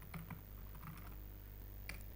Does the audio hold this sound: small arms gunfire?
no